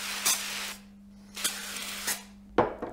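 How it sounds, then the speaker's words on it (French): Cooking spray is released in several short hissing bursts onto a non-stick madeleine baking tray, four spurts spaced irregularly, fairly close and moderately loud, over a faint steady hum. "On graisse vite fait notre plaque à madeleine."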